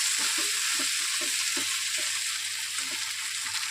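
Small crabs stirred and frying in a pan, a continuous hiss of sizzling with soft rhythmic scraping from the spoon, close and fairly quiet.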